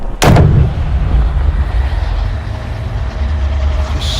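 A golf club smacks the ball in a Rory McIlroy EA Sports PGA Tour game, one sharp loud crack near the start that fades into a low rumbling tail of ambient noise.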